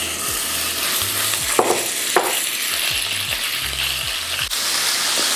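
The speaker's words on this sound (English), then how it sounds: "When the wok and oil is nicely heated up, you can tell by the little smokes going on and the oil is a little wavy and dancing, this is time to add the beef" Beef searing in hot oil in a wok sends up a loud, dense sizzle, with a metal utensil scraping and knocking against the pan in repeated strokes and a few sharp clanks.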